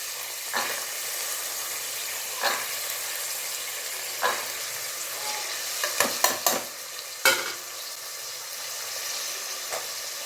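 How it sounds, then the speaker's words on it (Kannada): Tomatoes and double beans sizzle in a pan for a Kannada-style sambar, a steady frying hiss broken by periodic stirring scrapes and a quick flurry of clatters near the middle. "ಟೊಮೆಟೊ ಹಸಿ ಮೇಲೆ ಹೋಗೋ ತನಕ ಒಂದು ಸ್ವಲ್ಪ ಫ್ರೈ ಮಾಡೋಣ"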